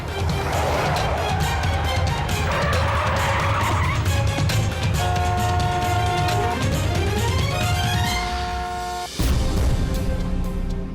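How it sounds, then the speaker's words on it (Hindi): A car whose brakes have failed skids with long, squealing tire noise over a loud, rushing engine roar, ending in an abrupt thump, with no talk over it. "लगता है गाड़ी के ब्रेक फेल हो गए हैं।"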